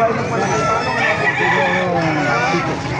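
A seven-month-old red hen clucking close by, steady and fairly loud, with people talking over the sound.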